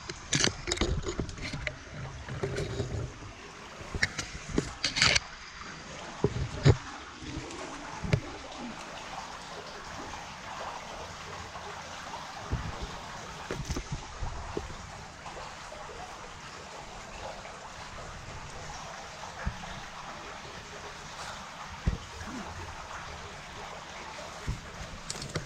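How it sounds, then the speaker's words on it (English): A small brook in Manchester flows and trickles steadily near a tunnel, a continuous soft watery wash with occasional louder splashes and knocks. "I'm just coming down on the other side of the brook now"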